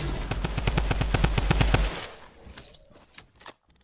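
A rapid burst of automatic gunfire from a shooter video game, about a dozen evenly spaced loud shots over two seconds, then trailing off into quieter clatter and echo before falling silent.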